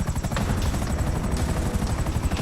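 An Apache helicopter in GTA 5 makes a loud, continuous rotor thump, a fast rhythmic chop over a dense engine roar, heard close up with no talking.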